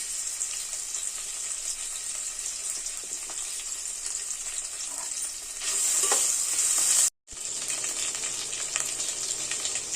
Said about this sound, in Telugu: 1 స్పూను అల్లం వెల్లుల్లి పేస్ట్ వేస్తున్నాను.